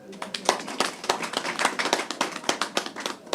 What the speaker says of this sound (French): Je voudrais que toute l'assistance les applaudisse